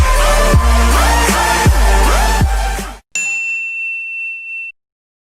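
A notification bell ding sound effect: a run of bright bell-like chimes over a musical backing, then a single clear sustained ding ringing on alone before stopping.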